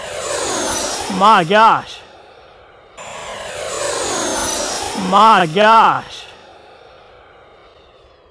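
Freewing Venom 90mm EDF jet model making two fast, loud passes, its ducted-fan whine rising and falling sharply as it sweeps by close; a man exclaims during each pass.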